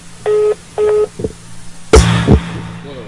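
A telephone on hold gives two short, even electronic beeps in a row, followed by clattering handling noise and a sharp thump near the handset.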